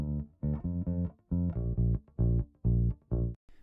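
Bass guitar line played dry with no EQ applied, a run of about ten firm, evenly spaced sustained notes with deep low end, close and loud, ending on a short final pluck.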